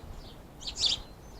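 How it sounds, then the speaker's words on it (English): A bird perched on a house gutter gives a brief cluster of high chirps, fairly faint and a little distant, over a low outdoor background. "there's a bird sat on the gutter and looking at me, tweeting"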